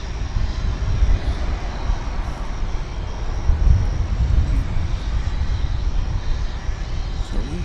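Broad, loud roar of a JAL jet airliner, Flight 12 from Haneda, at DFW Airport, rumbling steadily with slight surges throughout and no voices.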